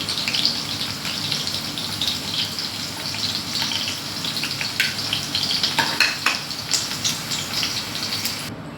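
Okra sizzles and crackles steadily as it fries in hot oil in a pan. The hiss is continuous and close, with irregular pops and stirring scrapes.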